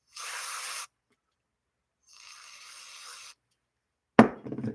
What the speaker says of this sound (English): So I'm just going to spray a little bit in there.